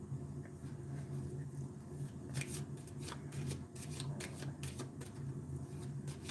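Deck of cards being shuffled in a tarot-style reading, with bursts of riffling and ruffling card noise recurring through the middle, fairly close and moderately quiet over a steady low background hum.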